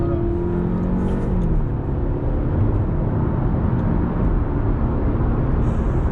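A car engine accelerates hard in second gear, a loud, steady roar filling the cabin without a break for several seconds.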